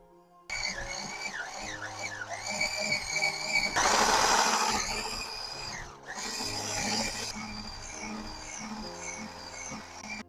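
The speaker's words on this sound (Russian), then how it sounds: "смешиваем в ней сливочное масло комнатной температуры, то есть размягченное, и сахар" An electric mixer beats softened, room-temperature butter and sugar in a deep bowl: a steady whirring motor with wavering pitch swells into a louder, rougher burst midway, then settles back into its continuous drone.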